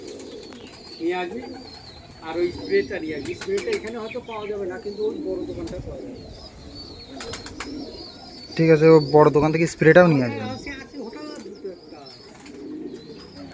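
Pigeons kept for sale coo in low, throaty bursts, clearest in a loud stretch near the end, with someone talking over much of it.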